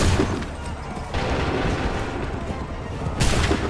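Musket volleys crack out in Assassin's Creed 3, a dense run of booming reports over about four seconds, loud and close, with commanders' shouted orders mixed in.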